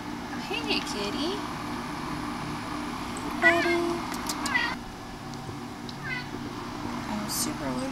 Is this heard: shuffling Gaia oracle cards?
no